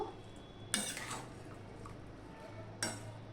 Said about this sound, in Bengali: এবার আমি সম্পূর্ণটা ভালো করে মিশিয়ে নেব